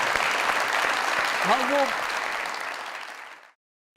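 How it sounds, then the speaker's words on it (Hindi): Steady applause from an audience fills the space, with a brief spoken word over it, then stops abruptly. "जोरदार तालियां"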